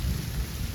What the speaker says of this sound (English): And here comes the sleet.